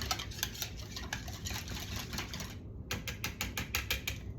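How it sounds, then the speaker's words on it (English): A mixture whisked together in a bowl, producing rapid rhythmic clicking and tapping of the whisk against the sides, close and continuous with a brief pause, no talking. "I'll whisk that together."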